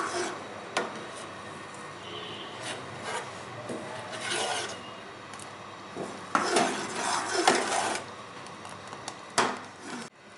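Thick saffron firni being served into dishes, with utensils scraping and clinking against pots and bowls in a steady run of rasping, knocking sounds, close up and with no talk over it.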